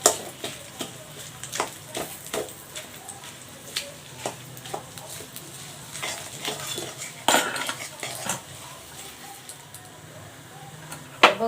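Dates being mashed in a pan with a spoon, heard as irregular scraping and clinking strokes of metal on the pan, some sharp and close, over a faint low sizzle.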